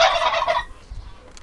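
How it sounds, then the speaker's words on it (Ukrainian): A turkey gobbles once, a rapid, warbling burst that stops abruptly, followed by faint low background noise. "Голосливий в нього крик. Здогадались? Це індик."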